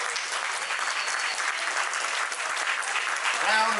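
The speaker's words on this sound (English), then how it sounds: "How about a big round of applause for all of those folks involved?" Audience applause at Festival du Bois, a dense, sustained round of clapping from a crowd, loud and steady, with a voice starting to speak at the very end.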